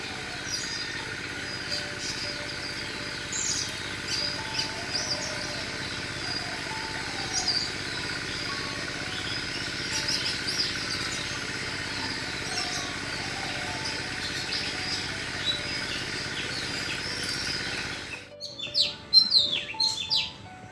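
Birds call and chirp from the greenery around a house rooftop, with scattered tweets over a steady outdoor hum, moderately distant, before a sudden shift near the end brings closer, louder chirps.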